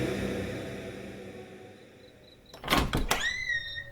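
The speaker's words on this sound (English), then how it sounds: "The door of the tavern opened" A tavern door in a Father Brown audiobook swings open after a quiet stretch, with a sudden thudding clatter and a creaking, ringing tail, close and fairly loud.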